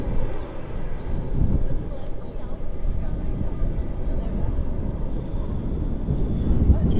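An Airbus A320neo airliner rolls out after touchdown at Manchester Airport as a low, steady rumble heard from a distance, with wind buffeting the microphone throughout.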